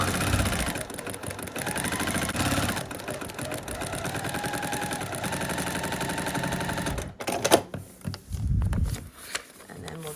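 A sewing machine runs a steady, rapid stitch along a seam line on a heart log cabin quilt block for about seven seconds, then stops, leaving a few brief handling noises.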